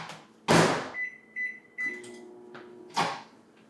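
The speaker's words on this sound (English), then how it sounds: "So we're going to put this in the microwave" A microwave oven heating a three-ingredient copycat recipe: loud clunks from the door, a high electronic beep tone, a low running hum, then another clunk near the end.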